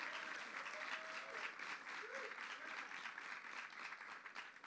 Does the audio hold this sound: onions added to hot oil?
no